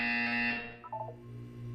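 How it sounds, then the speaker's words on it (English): Buzzer in the video game Portal 2: a faint, harsh electronic tone held for about half a second, then cut off, followed by a few brief softer tonal blips and a low steady hum. "You will hear a buzzer. When you hear the buzzer, look down at the floor."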